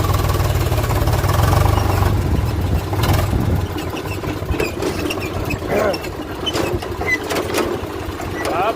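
A tractor engine runs with a steady mid-pitched chugging drone, loudest at first and then continuing a little lower under scattered clanks and background activity.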